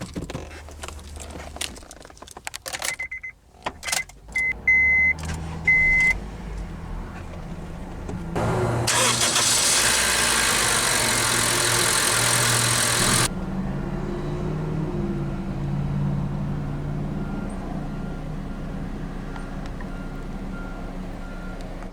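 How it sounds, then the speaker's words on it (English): A few electronic chimes ring out, then a 2007 Honda Civic LX sedan's engine cranks noisily for several seconds and settles into a steady, low idle. "let's go ahead and start the engine."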